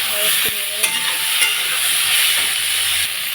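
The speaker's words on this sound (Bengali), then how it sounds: "পটলগুলো একটু ভাজা ভাজা হয়ে গেছে আদা আর কাঁচা লঙ্কা দিয়ে দেবো একটু" Pointed gourd fries in a pan with a steady hiss and sizzle, with a few light clinks of a utensil stirring, continuous and close.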